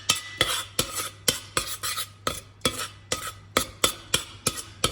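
Peanut butter, maple syrup and malt are stirred together in a pan on a low stove, a spoon scraping in a quick, regular rhythm of about fifteen close, distinct strokes.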